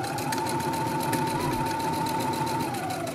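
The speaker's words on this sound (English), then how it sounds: "Now I'm repeating that same stitch right along the top seam." A sewing machine runs at a steady pace, stitching along the top seam of a fabric face mask. The whirring, rapid needle rhythm is close and continuous, with no pauses.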